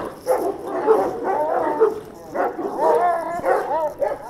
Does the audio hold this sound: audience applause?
no